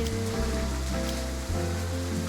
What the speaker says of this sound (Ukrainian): Пішов якийсь дощ, він далі.